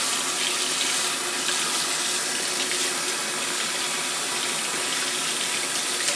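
A tap runs steadily and fairly loud to rinse a silver bracelet, a continuous bright splashing hiss with no break and no talking.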